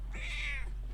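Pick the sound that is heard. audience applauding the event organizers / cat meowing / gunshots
cat meowing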